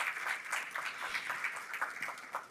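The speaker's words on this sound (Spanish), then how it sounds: "Bienvenido, ingeniero Luis Palacios. Fuertes palmas para él, por favor." Welcoming applause for engineer Luis Palacios at a mining operations forum, steady moderately distant clapping from an audience, fairly quiet and without talk.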